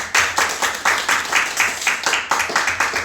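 A church congregation claps steadily, a rhythmic swell of applause pulsing in regular waves, fairly loud and close, with no one talking over it.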